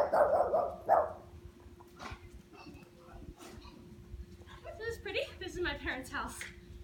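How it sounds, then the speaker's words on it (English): A dog barks a few times near a pool during an outdoor workout, the sharp barks close and mid-loud at the start, followed by someone talking over faint background sound. "What are you barking at, Olive?"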